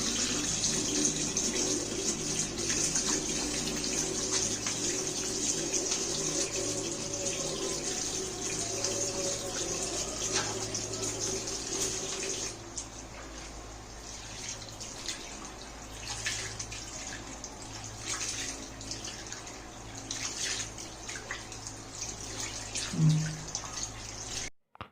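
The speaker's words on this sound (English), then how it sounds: "Before examining the patient, it is mandatory to wash your hand properly." Water running steadily from a tap as hands are washed before a patient examination, a continuous close splashing hiss that softens partway through with a few drips and rattles.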